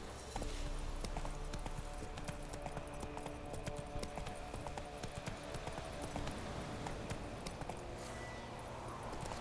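Geralt's horse Roach gallops in The Witcher 3, a steady rhythmic clip-clop of hooves that runs throughout, fairly quiet and close, with no talking over it.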